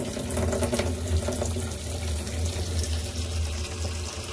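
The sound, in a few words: water filling from a tap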